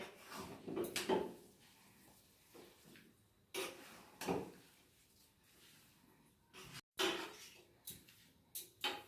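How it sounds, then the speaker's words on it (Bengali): Spoon scraping and knocking in a pot of khichuri with ghee, kalo nunia rice cooking, in a series of separate scrapes and clatters with quiet gaps between them. "ঘি দিয়ে আমি খিচুড়িটা আরেকবার ভালোভাবে নাড়িয়ে নেব যাতে ঘি পুরো খিচুড়িটার মধ্যে ছড়িয়ে যায়"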